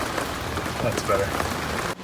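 Steady rain pours down on a boat tied up at a dock, a dense continuous patter of drops close by that cuts off abruptly near the end.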